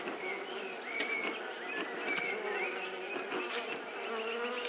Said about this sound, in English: Don't stand too close to the bees